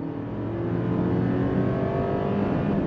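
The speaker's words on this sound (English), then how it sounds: "9-speed drop down and we're off." A 2024 Mercedes-Benz GLE 450e plug-in hybrid luxury SUV with a turbocharged engine and nine-speed transmission accelerates hard, giving a steady, rising engine drone heard from inside the cabin, without speech.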